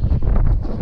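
Breezy outdoor wind gusts buffet the microphone, a brief loud low rumble and roar up close.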